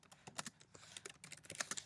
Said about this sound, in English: In the question box, I will begin typing my question.